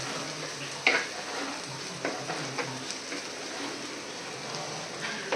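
Onions frying in a clay pot in a home kitchen: a continuous close sizzle with occasional scraping stir strokes and small pops, no voices.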